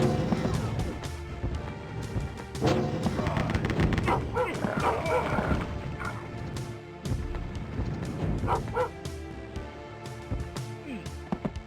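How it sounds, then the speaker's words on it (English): A dog barks repeatedly in Rise of the Triad: Ludicrous Edition, sharp yaps and whimpers mixed with gunfire and loud game action in a busy, dense stretch. "I love the little sound effect, like, he's still barking."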